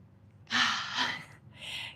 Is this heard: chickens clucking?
no